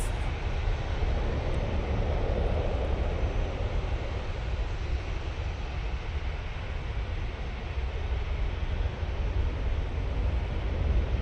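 A distant airliner heading off to Tenerife sends up a soft, steady engine roar that holds evenly throughout, a faint broadband rumble with nobody speaking.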